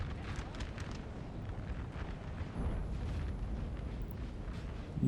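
Artillery in the Napoleonic battle game Napoleon Total War fires in a continuous low, rumbling roar of overlapping booms, fairly distant and steady throughout.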